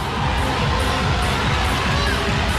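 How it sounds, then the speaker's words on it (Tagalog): Basketball arena crowd booing after a flagrant foul and takedown, a dense, steady roar of many voices filling the whole stretch at constant loudness, with no single voice standing out. "To the boos of the crowd."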